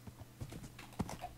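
Horse hooves clip-clop in a video game horse race, a quick run of rhythmic hoofbeats heard alone at moderate loudness over about a second and a half.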